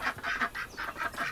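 A duck quacks repeatedly in a steady run of about seven short, nasal calls, fairly close and loud, with no talk over it.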